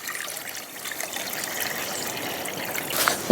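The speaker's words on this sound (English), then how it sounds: "So I want to get some water in the pot." Water trickles and splashes steadily into a cooking pot for making Ribena juice, a close, continuous pour with no talking.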